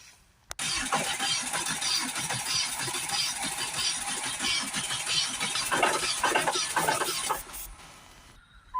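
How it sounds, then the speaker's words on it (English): A Ford S-Max 2.0 TDCi diesel engine cranks and fires after injector removal, cleaning and seal replacement, running loud and steady close by for several seconds before cutting off near the end. "we've got the vehicle started there"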